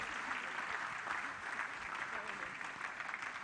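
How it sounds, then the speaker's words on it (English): Audience applause for panelists at a church career fair, a continuous crowd clapping at moderate distance, steady and even with no clear voices on top. "Another thunderous round of applause for our panelists."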